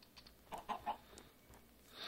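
A few soft clucks from chickens in a quiet game setting, three short bursts close together, then scattered faint calls.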